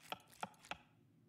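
Three evenly spaced knife chops slice a red onion on a cutting board in the video game Cooking Simulator 2, crisp and close, each with a short ringing tail, then quiet.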